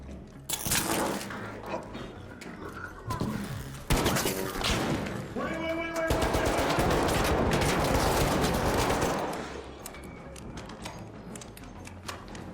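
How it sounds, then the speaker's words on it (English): A grenade detonates in the video game ARC Raiders, a loud booming blast amid a chaotic burst of gunfire, thuds and debris, with a sustained roaring rumble afterward and voices talking in the background. "Bro, you threw a grenade at me."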